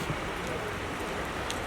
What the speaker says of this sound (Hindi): अरे इतनी बारिश हो रही है